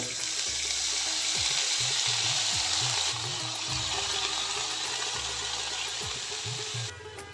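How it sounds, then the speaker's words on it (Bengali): Vegetables frying gently in butter with ginger and green chilli on low heat, a soft, even sizzle running throughout with faint low knocks and stirring underneath. "এক মিনিট সময় ধরে লো হিটে একটু মাখনের ওপর ভেজে নিলাম খুব হালকা করে"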